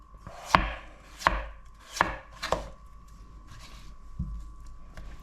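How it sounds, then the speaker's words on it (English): Knife julienning potatoes on a cutting board: four crisp, fairly close chops in an uneven rhythm, then a lone softer tap after a pause, over a steady faint hum. "I'm going to julienne the potatoes."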